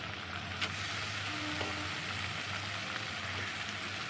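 Minced meat sizzles in a pan with tomato paste and spices, a steady soft frying hiss with occasional scrapes of a spoon stirring, close and fairly quiet throughout.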